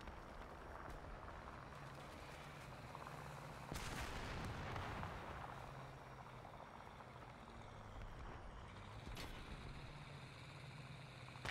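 Heavy gunfire and booming cannon shots in the War Thunder combat game, with a sharp loud blast near four seconds and another around nine, set over a constant dense rumble of engines and battle noise.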